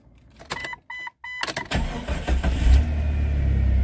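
A Jeep 4.0 with over 175,000 miles cranks with a few short starter bursts, catches and settles into a steady, smooth idle, close and moderately loud with no voices.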